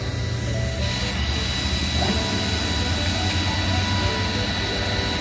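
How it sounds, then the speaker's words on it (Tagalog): A small portable fan blows hard onto glowing grill charcoal while eggplant and beef roast, giving a loud, constant rushing roar with no breaks, close to the fire. "ang lakas na ng baga dahil din sa ating portable fan"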